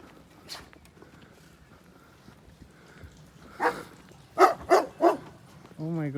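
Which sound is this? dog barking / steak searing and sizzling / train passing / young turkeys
dog barking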